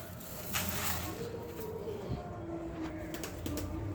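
Racing pigeons cooing inside a cage, with soft, steady low coos repeating close by over a faint background hiss.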